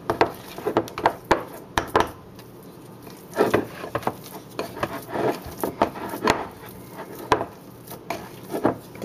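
Bentonite clay hair mask being stirred in a bowl, giving a steady run of close scraping, patting and dull wooden or utensil knocks in irregular bursts, with no talking.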